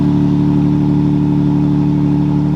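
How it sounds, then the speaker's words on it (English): A Lexus GX550 twin-turbo V6 with a Gibson exhaust idles just after a cold start, giving a loud, steady, deep rumble that holds unchanged throughout. "It's got a nice little deep rumble to it."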